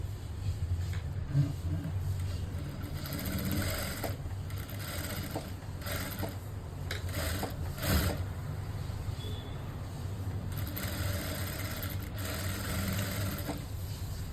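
A sewing machine stitching a blouse, the needle running in a steady mechanical whir with a low motor hum that holds evenly throughout, close and moderately loud with no talking.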